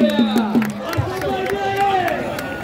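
Crowd noise at an outdoor kusti wrestling bout in Ambegaon, Pune, with a general hubbub of spectators and scattered claps under loud, continuous chatter and an announcer's voice; the clapping is not distinct from the surrounding crowd.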